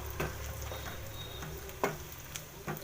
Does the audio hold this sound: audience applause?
no